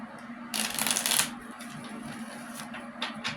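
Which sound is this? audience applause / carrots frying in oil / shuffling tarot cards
shuffling tarot cards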